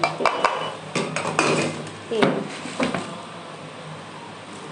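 Spices such as red chili and nigella seeds are stirred in a bowl for homemade mango pickle, with scattered clinks and scrapes of a utensil against the bowl, close and fairly quiet.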